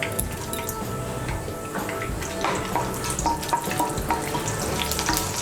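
Whole garam masala of cracked cardamom pods, cloves and a piece of cinnamon, with bay leaf, sizzling in hot oil in a steady, close crackling hiss with faint ticks throughout.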